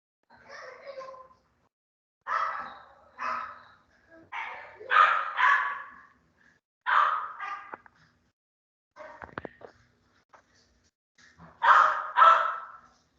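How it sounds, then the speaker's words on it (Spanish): A dog barks in the background of an online class meeting, giving about eight sharp, fairly loud barks, mostly in close pairs, with short silent gaps between them and no talk. "Deme un segundito aquí para callar el perro."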